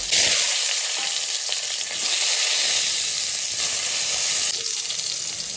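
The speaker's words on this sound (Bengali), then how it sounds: "বেগুন ভাজবো বন্ধুরা, তেল দিয়ে দিচ্ছি" Brinjal slices fry in hot oil in a very hot wok, giving a loud, continuous hissing sizzle that stays close and steady throughout, with faint stirring movements underneath.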